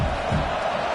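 A football stadium crowd at Michigan vs Rutgers roars as a dense, steady wash of noise through the short moment.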